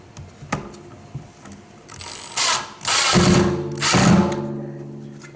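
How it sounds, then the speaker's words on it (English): Cordless screw gun driving screws into a DeWalt 10-gallon vacuum during assembly, with three close bursts of whirring motor, each a second or so long, following a few light clicks and handling knocks. "Screw gun."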